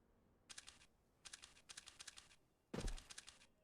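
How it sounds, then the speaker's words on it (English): Keys clack on a mechanical keyboard in quick short bursts of typing separated by pauses, with one heavier thunk near the end. It sounds close but quiet, and no one speaks. "your keyboard's so loud you're trying to type less"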